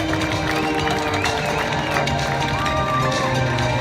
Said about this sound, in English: San Francisco, make some noise for Sean D. Tucker.